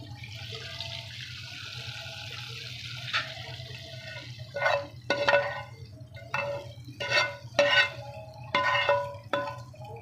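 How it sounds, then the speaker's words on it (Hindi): Hot oil tempering poured into cooked chana dal hits with several sharp, sizzling bursts in quick succession, close by, over a steady low electrical hum. "देखिए माशाल्लाह से दाल को हम तड़का लगा रहे हैं इस तरीके से।"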